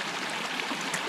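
Close, even rushing of a little trailside creek, the water's broad hiss steady throughout with no voices.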